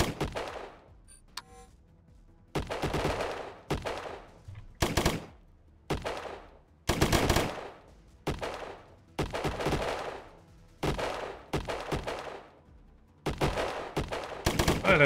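Bursts of SMG fire ring out in Colony Ship during a shuttle bay fight, about eight loud, separate volleys of rapid shots with short quiet gaps between them.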